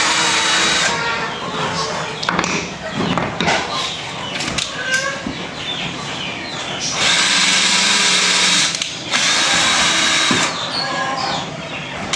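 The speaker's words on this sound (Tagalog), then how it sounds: "pinubutas natin ito. Yung pagtatamaan ng tornilyo." A power drill bores a hole for a screw while building a modern bahay kubo, whirring in several loud close bursts of varying length with clattering handling noise between them.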